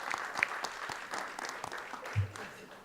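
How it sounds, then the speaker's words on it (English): Moderate applause from the audience at a county leaders' event, soft, somewhat distant clapping blended with room murmur. "Let's give him a round of applause."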